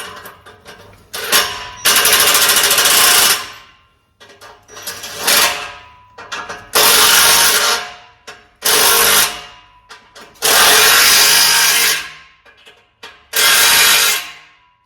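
A power tool tightens the exhaust on a Chevrolet S10 street and dirt drag truck in six loud bursts of whirring and rattling, each lasting one to two seconds, with short pauses between them.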